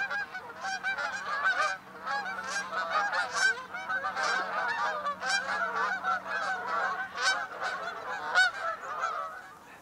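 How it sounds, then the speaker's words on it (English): A flock of geese honks continuously as it flies past on a Lancashire morning. The birds call in a dense, steady chorus at moderate distance, with no talking. "as geese going past, there was loads of birds"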